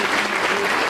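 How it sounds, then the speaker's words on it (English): Applause from a party audience at a 40th birthday celebration, a brief, steady burst of clapping with no talk over it. "Give him a big round of applause,"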